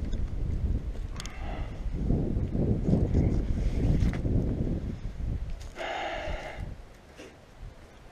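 Wind blows outdoors while bales are strapped down, a steady rumbling buffet across the microphone that gusts stronger midway, with faint rustling and a brief brighter noise near the end.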